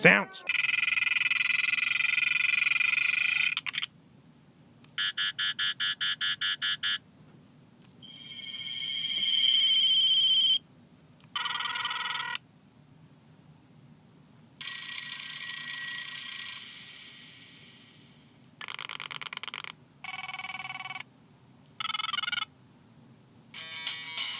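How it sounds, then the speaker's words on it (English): A run of short electronic phone ringtones, each a bright polyphonic melody lasting a second or two, separated by brief silences, played close and fairly loud. "Polyphonic ringtones, I told you!"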